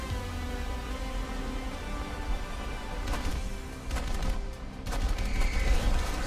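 Fighter aircraft guns fire in bursts in a combat flight game, rapid rattling volleys over a dense engine roar, growing heavier toward the end, with no voices.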